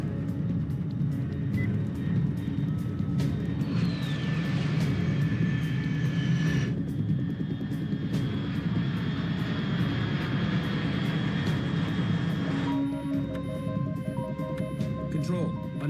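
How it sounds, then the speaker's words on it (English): Aircraft flying in the stealth action game Metal Gear Solid 3: Snake Eater, a steady loud engine roar with rising whine and tonal hum, heard under talk. "Unidentified aircraft detected"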